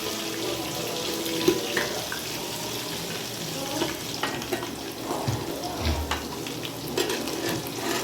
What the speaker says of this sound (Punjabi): ਹਲਕਾ ਲਸਣ ਪਾਇਆ ਲਸਣ ਭੁੱਜਣ ਦੇਣਾ ਆਪਾਂ ਜਦੋਂ ਤੱਕ ਬਰਾਊਨ ਨਹੀਂ ਹੋ ਜਾਂਦਾ